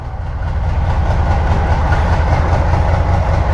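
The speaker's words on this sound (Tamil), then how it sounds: "நம்ம சொல்லி முடிக்கவும் ட்ரெயின் வந்துட்டு." A loud train rumbles by up close, a continuous heavy roar with faint rhythmic clatter from the wheels on the rails.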